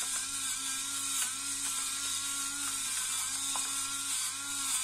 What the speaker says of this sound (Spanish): Vaya molinillo ahí.